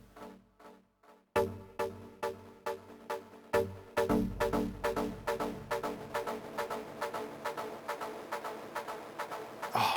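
A plucked guitar line repeats through the gritty, warm echo of an Echolocator delay pedal in crunchy bucket-brigade mode, each note trailing into darker, slightly crunchy repeats that stack up into a continuous wash.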